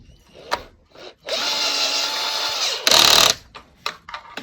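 A power tool tightening bolts under the hood of a BMW with its engine, whirring in short bursts of one to two seconds, close and loud, with brief clanks between runs.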